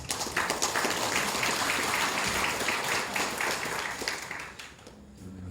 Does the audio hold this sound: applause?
yes